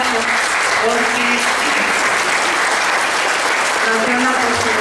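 An audience applauds a teacher at an event, dense sustained clapping filling the room with faint voices mixed underneath.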